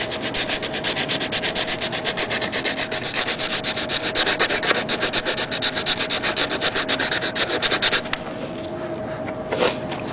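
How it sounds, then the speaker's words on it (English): A surfboard ding and the fiberglass around it are hand-sanded with rapid, even back-and-forth rasping strokes, close and loud, stopping near the end, with no voices. "we're going to sand the ding completely and rough up the surrounding surface"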